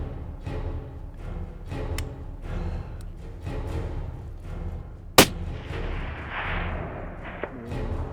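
A single sharp hunting rifle shot cracks out loud and close in open country, followed by a brief rolling echo, with quiet ambient rumble before and after.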